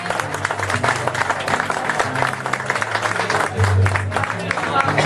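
Applause and crowd noise at a live Cuban música campesina performance, clapping blended with the murmur of the audience and a voice.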